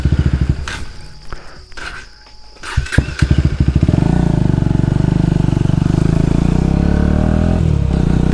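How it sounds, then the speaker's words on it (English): A motorcycle engine, with a few clattering knocks and footsteps up close, then the engine catches and settles into a loud, rhythmic idle-to-running throb that continues steadily. "this is probably the last time I'm gonna be riding this bike"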